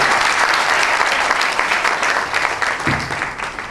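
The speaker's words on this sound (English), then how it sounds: "And a round of applause." A startup bootcamp audience in Dhaka gives a loud, sustained round of applause after a team's presentation. Dense clapping fills the whole stretch, easing slightly toward the end as a voice briefly cuts in.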